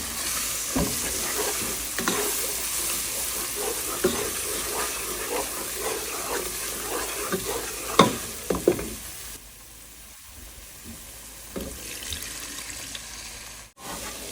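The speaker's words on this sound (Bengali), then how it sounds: "মশলাটা আমি ভালোভাবে কষিয়ে নেবো" Spice masala with garam masala frying in a pan and being stirred, a steady close sizzle with repeated scraping strokes, fading to a quieter hiss partway through.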